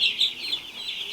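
Americana chicken on a homestead farm clucking close by, a steady run of soft, overlapping clucks and chirps with no talk.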